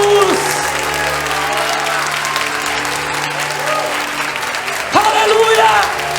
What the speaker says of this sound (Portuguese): Quem pode aplaudir e glorificar Jesus?